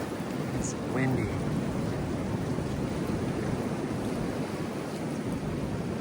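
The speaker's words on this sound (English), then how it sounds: "It's windy." Wind gusting through a red maple swamp in New England, a steady broad roar of air buffeting the microphone, loud and unbroken for the whole stretch.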